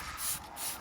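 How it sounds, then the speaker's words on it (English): Wheel and tyre cleaner gel sprayed onto the wheel of a BMW E82 118d Sport, two short hissing spray bursts in quick succession, close and soft. "So just spray all that on there."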